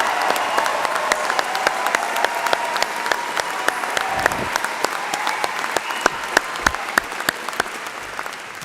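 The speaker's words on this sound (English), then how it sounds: "join me in giving them a round of applause." An audience at a university graduation ceremony gives steady, sustained applause for Royal Birmingham Conservatoire musicians, with dense clapping and sharp individual claps standing out near the listener.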